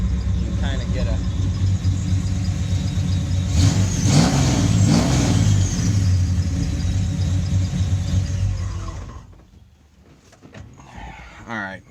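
Engine of a 1968 Oldsmobile Cutlass 442 convertible with a Pro Charged 455 V8 and six-speed, idling and revving loudly indoors with a deep steady rumble, then cutting off near the end, leaving a quiet room with faint voices.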